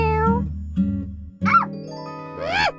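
A cat meows several times in quick succession, short close calls rising and falling in pitch, set against a soft chiming backdrop in a children's animated story.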